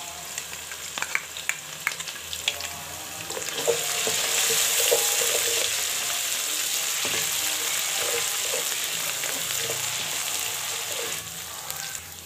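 Ginger garlic paste frying with onions in a pan, sizzling steadily and growing louder midway, with scattered scraping and stirring clatter from a utensil close by and no talking.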